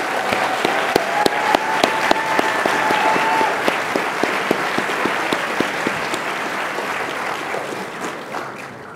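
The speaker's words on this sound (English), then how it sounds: "And a final round of applause for all our 15-year awardees." A large crowd applauds steadily for several seconds, dense clapping filling the room, with a faint tone briefly audible early on.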